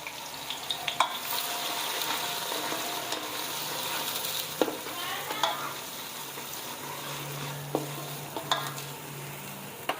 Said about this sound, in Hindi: 5 कटी हुई प्याज डाल देंगे इसमें, और इसे हम ब्राउन कर लेंगे लाइट।